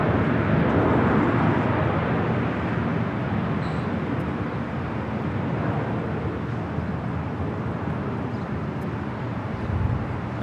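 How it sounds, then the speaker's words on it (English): A Boeing 777 freighter arriving on the south side at LAX, a broad steady roar of jet engines and airport noise that holds level for about ten seconds, heard at a distance with no talk. "MSC Air Cargo, the 777 freighter arriving on the south side."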